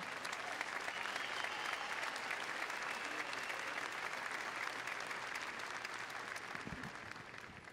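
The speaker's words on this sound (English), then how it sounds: "we would like to welcome Mayor Toni Harp with a really exciting round of applause" Sustained applause from a large commencement audience greeting the mayor, steady and dense for several seconds before tapering slightly at the end.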